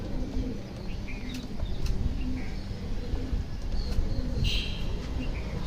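A pigeon coos softly in a cage, giving several low, throaty calls over a steady background hum, with a few faint chirps and light rustles nearby.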